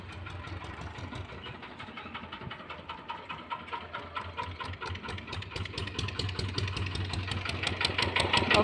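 A sugarcane juice vendor's engine-driven crushing machine runs steadily nearby outdoors, a continuous rattling mechanical drone with rapid regular knocking that grows slightly louder toward the end, with no talking.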